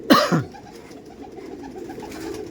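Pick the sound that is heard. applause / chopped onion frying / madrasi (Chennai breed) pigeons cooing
madrasi (Chennai breed) pigeons cooing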